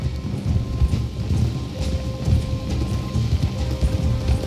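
Horse hooves clip-clop steadily in Red Dead Redemption 2, a continuous rhythm of several horses walking at a near, moderate level over low ambient game sound.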